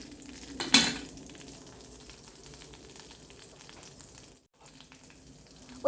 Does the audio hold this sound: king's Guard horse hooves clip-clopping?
no